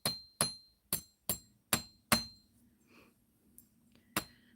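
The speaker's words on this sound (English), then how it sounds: "I'm just hammering these a little bit to harden them up some, because this is 20 gauge wire" Sharp metallic hammer strikes flattening 20 gauge wire to harden it, about eight quick clinking blows in a steady rhythm with a short pause before the last two, close and clear.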